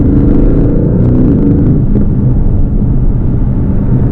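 Aston Martin DB11 Volante convertible driving in manual mode with paddle shifts, its engine giving a loud, steady rumble that rises and falls through gear changes, heard close from inside with no talking.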